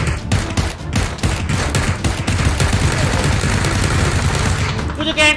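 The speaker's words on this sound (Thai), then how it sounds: "มันยิงมา โอเค ยิงมาโคตรแรง" Rapid bursts of gunfire crackle and boom almost continuously, dense and loud, with a few sharper shots near the end, from the video game PUBG.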